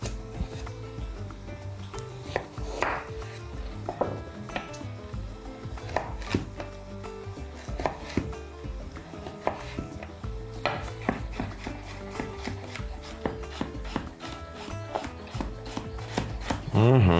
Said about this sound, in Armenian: կտրատում ենք մանր խորանարդիկների